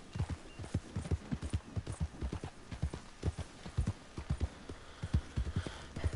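Horse hooves in Red Dead Redemption 2 clop in a quick, rhythmic gait, with close, repeated thuds continuing throughout.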